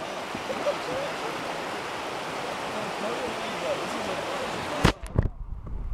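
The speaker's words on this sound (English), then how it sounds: "It's the rapids!" Rapids on the Shenandoah River give a continuous broadband rush of churning water heard close by during a tubing trip. The rush cuts off abruptly near the end into a few splashes and knocks.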